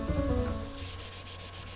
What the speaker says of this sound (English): I spent a few minutes polishing both sides